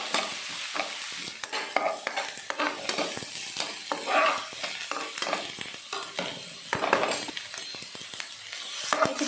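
Onions fry and sizzle in a pan while being stirred for a Tulu-style squid sukka, the soft hiss broken by irregular scraping and clinking stirring strokes close up, with no voices.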